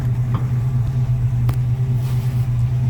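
A 1966 Chevy C10 truck idles in neutral, its engine giving a steady, loud low rumble that continues unbroken throughout.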